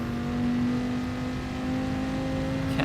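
A Dodge Viper Gr4 race car in GT Sport on the Sardegna circuit drones steadily as its engine pulls under acceleration, a sustained even tone with a faint pitch rise and a brief sharp noise at the end.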